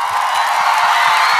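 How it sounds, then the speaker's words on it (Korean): A studio audience cheers and whoops with steady applause at a Korean music talk show, a dense continuous wash of crowd noise without gaps over the short span. "큰 박수 부탁드립니다"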